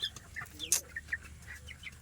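Chickens cluck and chirp in short, scattered calls over a low background murmur, fairly close by.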